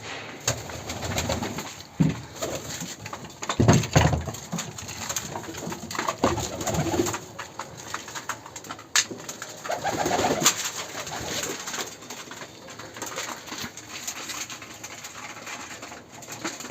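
Pigeons kept in a home loft, hungry since the day before, coo and call in soft bursts throughout, fairly close, with rustling and handling noises mixed in and no talk.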